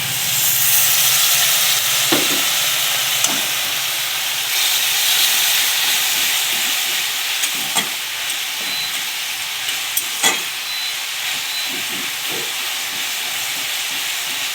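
Steady loud sizzling and hissing from a hot pan as turmeric and water go in for a Bengali fish curry, with occasional clinks of a utensil stirring against the pan.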